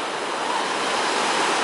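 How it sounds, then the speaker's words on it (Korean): Surf rolls in steadily at My Khe Beach in Da Nang, a continuous broadband wash of breaking waves with no voices over it. "자, 미케비치입니다."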